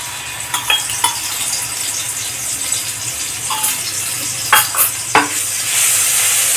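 Garlic, ginger and chili paste sizzling in hot oil while a spoon stirs it, with repeated scraping clinks against the pan over a steady frying hiss.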